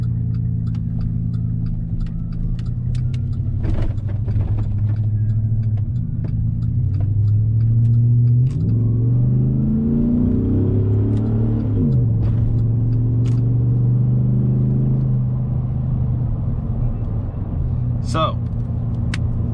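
A car's engine rumbles low and steady, then climbs in pitch as it accelerates through several gear changes before settling back to a cruising hum, with occasional voices and cabin sounds over it.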